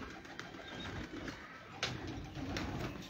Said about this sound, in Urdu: کہیں کوئی کبوتر سنا ہے